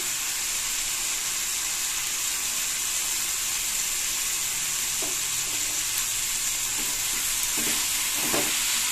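Cauliflower and double beans sauté with salt in a pan, a steady hissing sizzle with soft stirring scrapes and a few louder spatters toward the end.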